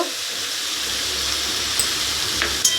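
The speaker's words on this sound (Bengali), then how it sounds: "এটাকেও ভালো করে নাড়াচাড়া করে মিশিয়ে নেব" Mango and shol fish curry frying in a pan while being stirred, a steady close hissing sizzle with a few faint scrapes of the spoon, no voices.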